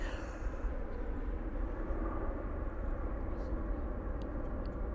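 An airliner departs Manchester Airport on an extended climb-out, a steady broad engine roar that holds at a constant level throughout, with no clear speech over it.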